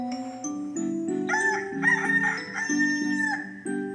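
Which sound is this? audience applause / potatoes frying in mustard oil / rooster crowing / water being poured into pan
rooster crowing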